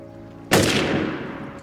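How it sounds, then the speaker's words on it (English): A single sharp gunshot from The Godfather Part II cracks out suddenly after a faint sustained musical tone, then a reverberant tail decays over about a second. "we cut back to Michael and the gunshot"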